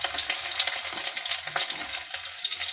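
Garlic is dropped into hot white oil with nigella seeds, giving a bright, crackling sizzle heard up close, dotted with small pops and light stirring clicks throughout.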